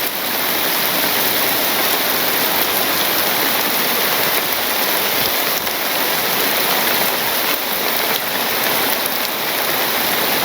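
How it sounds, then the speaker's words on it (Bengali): Heavy rain pours steadily over a Bangladeshi village, a dense, even hiss of drops on surfaces that stays loud and unbroken throughout, with no voices. "আমি যেখানে বসে আছি একদম সেই তার দিক থেকে বৃষ্টি পড়ছে।"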